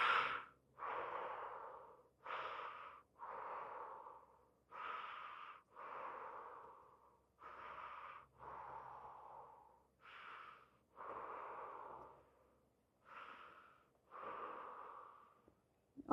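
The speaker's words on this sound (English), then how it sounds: "And breathe in through the mouth." Deep rhythmic breaths drawn in and pushed out through the mouth during a stretching exercise, about a dozen evenly spaced breaths, heard close and alone in a quiet room.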